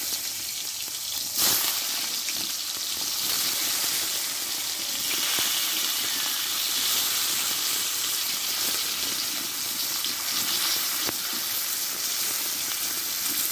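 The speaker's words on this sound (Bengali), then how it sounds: "তেলটা কিন্তু ভালোভাবে গরম হয়ে গেছে। এইবার এই পুর ভরা একটা একটা করে সিমগুলো আমি দিয়ে দেবো।" Stuffed flat beans (sim) sizzle steadily in hot mustard oil, a dense continuous frying hiss with a brief louder spatter near the start, close and alone with no talk.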